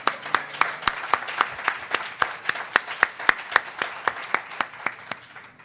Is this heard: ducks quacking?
no